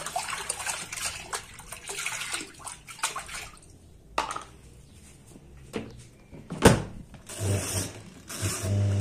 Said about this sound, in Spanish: Ya abastecí mi lavarropas.